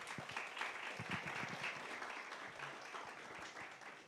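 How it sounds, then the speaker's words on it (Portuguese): An audience at a climate-change and mining event claps for a panelist as he comes up, a moderately loud round of applause with a few sharper individual claps early on that settles into a steady patter. "uma salva de palmas para ele"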